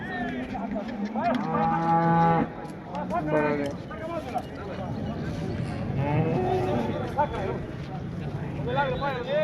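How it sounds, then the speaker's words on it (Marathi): A dairy cow gives loud, drawn-out moos at a busy cattle market in Modnimb, with several lowing calls rising over constant nearby chatter and crowd noise. "पार्टी गाय 15 लिटर दुधाची गाय बघा"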